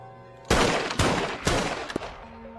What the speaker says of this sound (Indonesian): Akhirnya Danny pun dengan berat hati menembak kakaknya tersebut hingga tewas.